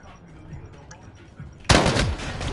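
Gunfire in the first-person shooter Modern Warfare, a Search and Destroy match: quiet game ambience, then a sudden loud burst of rapid shots that carries on to the end of the clip.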